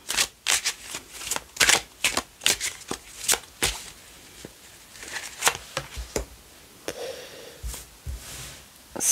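An oracle card deck being shuffled and cut, with bursts of quick papery riffles and slaps, some pauses between them, then softer single card taps, close and clear with no voices.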